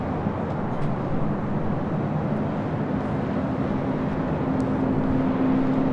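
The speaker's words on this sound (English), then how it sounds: "It's an A319." An Airbus A319 airliner at LAX gives a broad, steady roar that stays loud and unbroken, with a faint tonal whine running through it and no speech.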